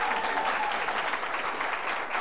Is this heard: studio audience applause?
yes